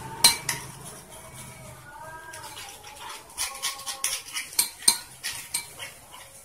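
A spoon clinks and scrapes against a bowl while coffee is mixed with water, a run of quiet clinks and taps with faint tones ringing between them, close and irregular.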